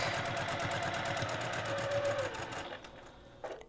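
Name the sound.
sewing machine stitching a passport cover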